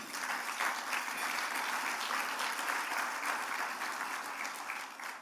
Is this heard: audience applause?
yes